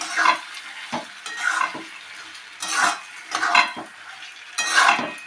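Coconut prawn masala is stirred and mixed in a pan with repeated scraping, clattering spoon strokes over a soft sizzle, close and fairly loud, with no talking.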